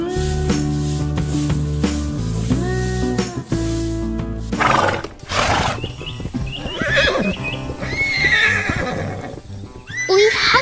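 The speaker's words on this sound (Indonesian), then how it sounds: "Lihatlah, kuda-kuda yang lucu sedang bermain di tengah lapangan hijau, berlarian dengan ceria di hari yang cerah." Animated horses in a green field neigh and whinny loudly over busy music-like tones, with galloping clip-clop and bursts of noisy animal cries throughout.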